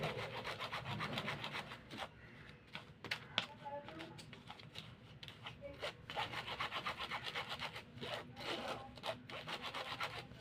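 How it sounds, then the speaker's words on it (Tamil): Ground homemade face cream powder is sifted through a sieve by hand. The repeated scraping and rubbing strokes are close and faint, with bursts of brushing throughout and no talk. "இந்த மாதிரி நம்ம கொஞ்சம் ஜல்லடியில் ஜலிச்சு எடுத்துக்கணும்."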